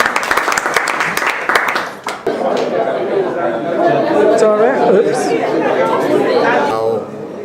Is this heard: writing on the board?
no